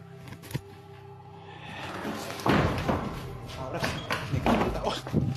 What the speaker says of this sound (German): The door slammed.